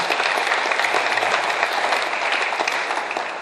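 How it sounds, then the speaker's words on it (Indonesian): A crowd at an official Jakarta ceremony gives the organizing committee sustained, dense applause, fairly loud and steady, fading slightly toward the end. "Kita berikan semua aplaus kepada panitia kita yang selalu setia."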